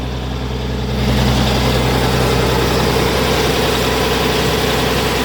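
M936 military wrecker truck engine rumbling steadily, its deep drone swelling and loading up after about a second as the torque converter locks up, then holding a heavy even note, no talk.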